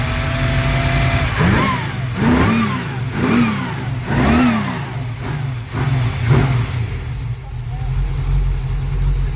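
A 1979 GMC High Sierra truck engine revs repeatedly in a shop, several rising and falling throttle bursts over a steady idle rumble, loud and close, with voices in the background.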